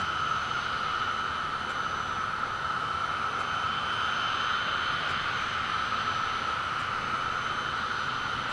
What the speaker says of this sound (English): They start to spool the turbines up in the jet engines.